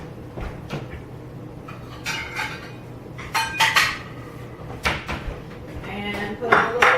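A bowl is taken out and handled in a home kitchen, with scattered clinks and knocks of dishes and a cupboard, light and close, under occasional talk.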